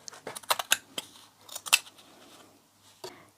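Scissors snip through felt-covered cardboard in a handful of crisp, quick cuts, clustered early, then a pause and a final snip; close and fairly quiet, with no talking.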